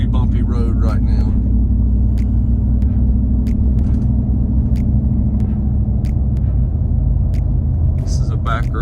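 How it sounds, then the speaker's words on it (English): A lifted truck rolls over a bumpy back road full of potholes, with a steady low engine and road rumble and repeated sharp clunks and rattles from the jolts, while someone talks over it. "I'm on a very bumpy road right now"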